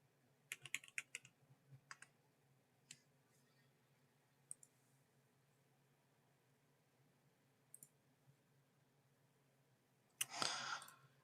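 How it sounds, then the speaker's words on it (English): Keys clatter on a computer keyboard in quick, faint bursts of clicks near the start, then sparse taps through a quiet stretch, and a denser flurry of typing at the very end. "I was typing up my review."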